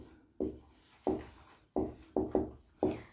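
A teacher writes notes, probably chalk on a board, in six distinct scraping strokes spaced irregularly with short pauses between them. The sound is close and clear, with no talking.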